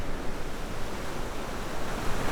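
Ocean surf washes against the Mallorca coastline where hills and mountains meet the sea, a steady broadband roar with slight gusty swells and no voices.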